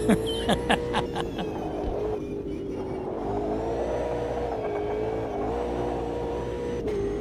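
A race car engine in a sim racing video game drones and rises in pitch as the throttle is worked, with a few sharp bursts of laughter at the start.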